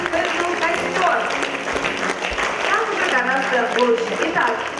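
Audience ovation for a fire dance by a choreography group, steady crowd clapping that runs the whole way through with an announcer talking over it.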